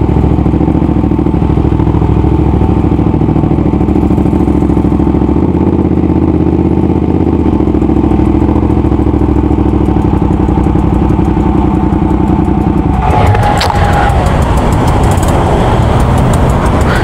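A 2025 Ducati Panigale V2 motorcycle ridden at speed, its engine a steady loud roar with wind and road rumble throughout, shifting into a rougher, clattering burst near the end.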